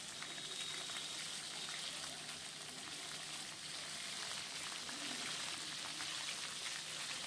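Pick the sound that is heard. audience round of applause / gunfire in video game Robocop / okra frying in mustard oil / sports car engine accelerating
okra frying in mustard oil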